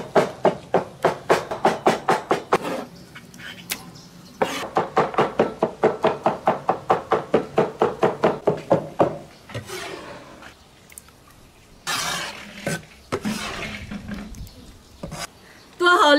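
Tomatoes being chopped with a cleaver for tomato sauce: rapid, rhythmic knocking chops on a board in two long bursts, followed by scattered heavier thuds and pauses.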